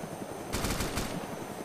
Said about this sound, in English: I hear someone shooting.